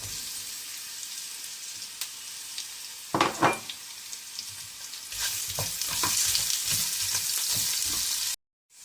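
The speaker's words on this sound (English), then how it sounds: "So at this stage, I am adding the onions." Onions added to a hot pan of browning chana dal for South Indian hotel-style upma, setting off a loud burst of sizzling that settles into steady close frying with stirring scrapes, ending abruptly.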